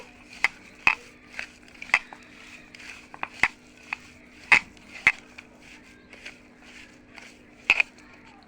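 A spoon stirs boiled, mashed potato in a bowl, giving sharp, irregular knocks against the bowl's sides over a faint steady hum, with no voices.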